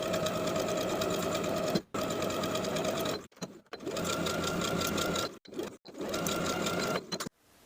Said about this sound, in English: Sew the belt in place from that outer edge of the ruffle on one side, all the way to the opposite outer finished edge of the ruffle